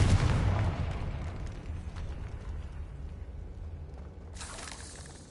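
A Confringo spell blast in Hogwarts Legacy lands as a booming explosive burst that decays into a rumbling tail, followed by a brighter hissing flare near the end.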